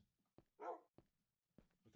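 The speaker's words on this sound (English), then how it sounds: "With my pet dog, who's been sitting here loyally for a million years" A pet dog in the Minecraft video game gives a few short, sharp barks spaced irregularly, quiet and clean against silence.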